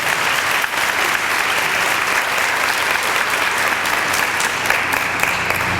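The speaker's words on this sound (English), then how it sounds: "Once again, let's give all of them a round of applause." Steady, dense applause from an audience at a college honor society event, continuous and fairly loud throughout with no pauses.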